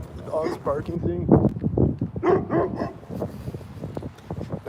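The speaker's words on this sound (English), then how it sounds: "The dog's barking." A dog barks outdoors in a series of short barks mixed with people talking nearby, with the barks and voices overlapping at moderate loudness throughout.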